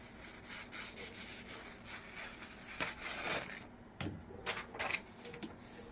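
A Benchmade knife slices through a sheet of paper, producing soft rasping, scraping strokes that swell and fade in several quiet passes, close up with no voices.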